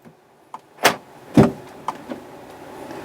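A vehicle's automatic sliding passenger door closes in a few distinct thumps and clunks, with a heavy latch impact near the middle and smaller mechanical clicks afterward, heard close up with no talking.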